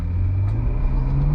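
Ferrari GTC4 Lusso T engine on throttle, a steady deep rumbling drone heard from inside the car, loud and continuous with no talk.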